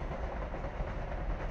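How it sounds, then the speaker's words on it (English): A 12-carriage Southern Railway class 377 electric train, not in service, runs through Redhill station at speed with a steady, dense rumble and rattle of wheels on track, loud and close throughout. "12 carriage train, class 377 Southern Railway"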